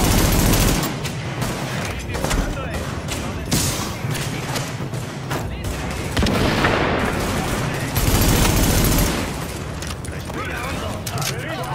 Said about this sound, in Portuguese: é muito tiro